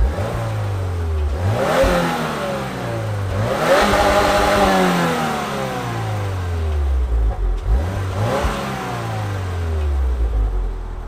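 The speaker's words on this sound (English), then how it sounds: "In the WRX, testing it out here, about to take it on the highway." A 2022 Subaru WRX accelerates hard, the engine revving up through repeated rising sweeps with brief dips at each gear change, heard close and continuous from inside the car.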